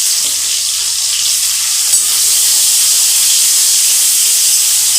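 Spice tempering fries with chopped onion and tomato for a spicy pabda fish curry, giving a loud, continuous hissing sizzle close by, steady throughout with faint stirring movements.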